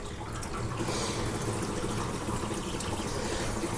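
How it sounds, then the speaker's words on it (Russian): Water gurgling and trickling as a drain valve empties a well pump system's pipes back into the well, a steady close wash of liquid sound throughout with no talking. "Он сейчас из системы слил всю воду обратно в колодец."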